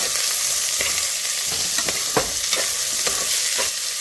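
Two large sliced onions sautéing in a pan with a pinch of salt, a steady sizzle broken by repeated spoon scrapes and taps every half second or so, close and clear with no voices.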